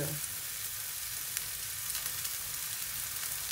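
Mushrooms pan-fry with persillade, giving a steady, close, even sizzle with faint crackles throughout.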